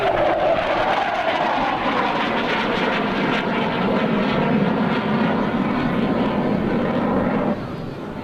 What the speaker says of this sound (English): The only civilian-owned flying F-104 in the world